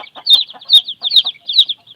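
Newly hatched chicks and hens on a small farm give rapid, repeated clucks and chirps in a bouncy rhythm, close and clear with nothing else around.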